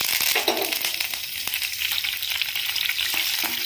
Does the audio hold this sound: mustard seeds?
yes